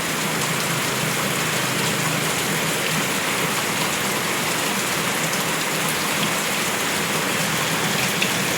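Heavy rain pours down steadily, a dense, unbroken hiss of drops hitting surfaces close by, with no voices.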